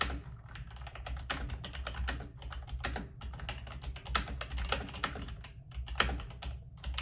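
Typing on a Logitech mechanical keyboard, a steady run of light, fairly quiet key clicks at close range over a low background hum, with no voices.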